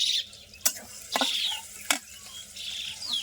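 Chilies sizzling in hot oil for frying greens (shak) in a home kitchen, a steady hiss with a few sharp utensil clinks against the pan.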